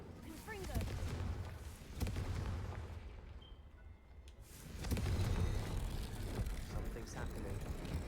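Fire and blast spells Incendio and Confringo cast at braziers in the Hogwarts Legacy video game, heard as sustained rumbling booms and crackling bursts that swell, dip briefly, then roar back loud and dense.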